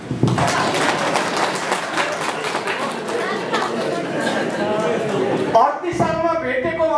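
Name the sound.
audience applause at a political conference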